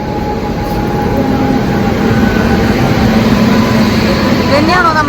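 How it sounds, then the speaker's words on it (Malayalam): A Rajdhani Express train rolls loudly into a station, a steady rumble of wheels and carriages close by with a brief rising squeal near the end; voices can be heard around it. "ഇതന്നെയാണോ നമ്മുടെ ട്രെയിൻ?"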